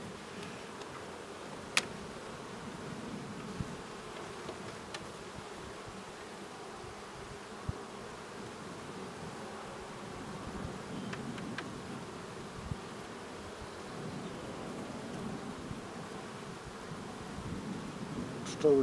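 Honey bees buzz at a spring hive inspection as a faint, continuous low hum, with a few soft clicks and taps scattered through it.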